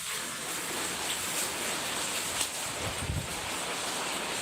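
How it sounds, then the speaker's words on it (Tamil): Steady rain falls outdoors as a constant, even hiss with no voices and no distinct drops standing out. "எப்படி மழை பெய்யுதுன்னு பாருங்க"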